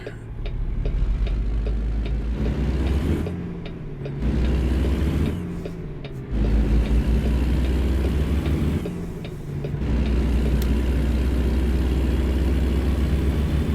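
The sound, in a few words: truck engine brake in the video game American Truck Simulator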